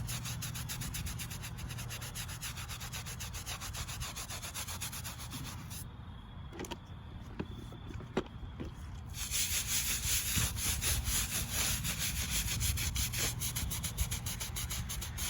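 A brush scrubs dirt off a flat stone grave marker for a Revolutionary War veteran, continuous rough rubbing strokes, fairly faint and close, pausing briefly before resuming more strongly.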